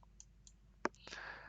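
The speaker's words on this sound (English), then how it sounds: "Then select the first point here by left clicking" Short, soft click of a computer mouse button while working in SolidWorks 2023 CAD software, one distinct tap among faint ticks in a quiet room.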